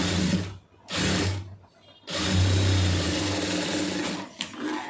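A sewing machine stitches a round neckline, running in bursts: a short run, a pause, another short run, then a longer steady stretch of close, loud mechanical whirring.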